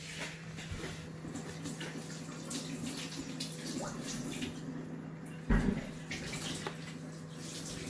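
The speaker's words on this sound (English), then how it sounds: "Just going to wash my hands." Hands being washed under a running kitchen tap, a steady soft stream of water with faint splashing and one brief louder knock midway, heard alone at low level.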